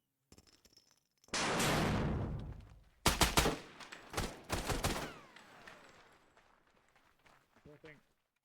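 Flashbang grenade bursts during close-quarters battle training: a long loud roaring blast followed by a rapid cluster of sharp bangs, then shuffling movement and faint voices near the end.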